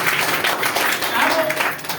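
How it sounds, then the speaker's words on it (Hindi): Audience applause at a direct-selling business seminar, a sustained broadband patter of many hands clapping continuously for about two seconds, with a voice faintly present underneath. "आप सभी लोगों के लिए एक बार जोरदार ताली"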